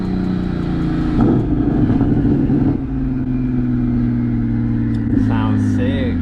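A BMW M240i engine hums and swells steadily from inside the moving car, a loud, continuous drone with a brief rise partway through, while people talk over it.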